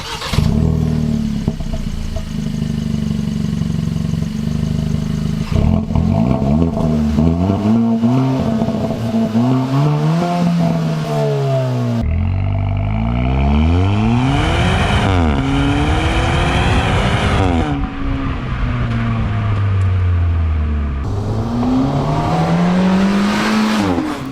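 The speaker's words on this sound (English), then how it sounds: "And we gotta take a listen to this exhaust." A 2020 Kia Forte GT with its 1.6-liter turbo engine accelerates through several gears, exhaust note rising in pitch, then dropping sharply at each upshift with bursts. It is loud and close with no talk.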